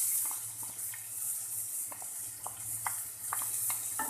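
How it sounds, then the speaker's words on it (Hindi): Chopped onion drops into a pan of frying cumin seeds and sizzles steadily, with a constant hiss and scattered small pops and stirring clicks throughout, no voices. "ज़ीरा फ्राई हो गया। अब हम इसमें डालेंगे 1 टेबलस्पून प्याज कटी हुई।"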